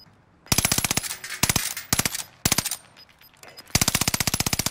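Call of Duty: Modern Warfare gunfire: several close, loud bursts of rapid automatic fire with short pauses between them, ending in a long sustained burst.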